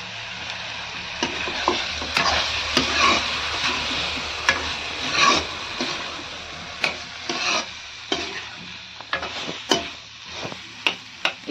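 Potatoes frying in a pan, a close steady sizzle broken by repeated sharp scrapes and knocks of a spatula stirring them, becoming more spaced and clattery toward the end, with no talking.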